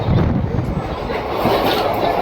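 Continuous rumble of the 13187 Maa Tara Express running on rails out of Sealdah toward Bolpur, a steady broadband roar with faint rhythmic clatter, loud and close from inside the carriage.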